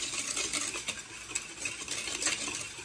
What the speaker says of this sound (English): now we're going to whisk that together